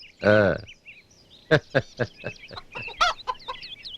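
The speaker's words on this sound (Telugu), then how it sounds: "ఎదవ కోడి పుంజుకి జీడిపప్పు తినిపిస్తున్నారు." A rooster being fed cashew nuts gives one loud drawn-out call, then a quick series of short, sharp clucks close by, with some talking mixed in.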